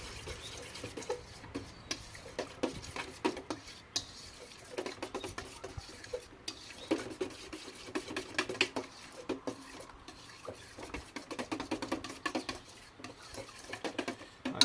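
Whisk or spoon stirring a homemade pineapple-based barbecue sauce in a bowl, a steady run of quick, light clinks and scrapes, close and fairly quiet with no talking.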